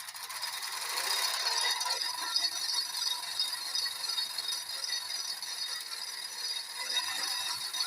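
A homemade ceiling fan coil winding machine turns steadily, giving a continuous close-up mechanical ratcheting whir that holds at an even level throughout with no talking.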